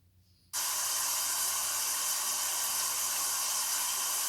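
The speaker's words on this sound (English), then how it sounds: "listen to the sound of the shower for a moment" A shower is switched on after a brief quiet moment, then water sprays in a steady, loud hiss that continues without a break.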